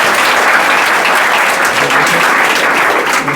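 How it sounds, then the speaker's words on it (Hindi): Students clapping loudly for a prize winner at a grammar test award ceremony, a dense, continuous burst of close applause from a group throughout. "ताली बजाओ भाई इसके लिए।"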